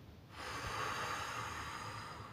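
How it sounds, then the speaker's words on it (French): A deep breath drawn in through the nose during a cardiac coherence breathing exercise, one long, close, steady inhalation lasting about two seconds with no talk over it. "On inspire."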